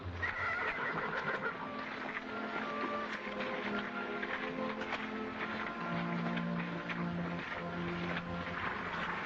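A horse whinnies and snorts up close over a continuous busy background, with repeated neighs and possible hoof shuffling throughout and no clear talk.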